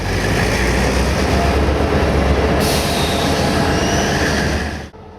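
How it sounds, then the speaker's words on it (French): A diesel night train from Zagreb arrives at the station, rumbling loudly close by, a steady roar of wheels and engine with some metallic squealing, then the noise cuts off abruptly near the end. "Le train de nuit en provenance de Zagreb vient de rentrer en gare."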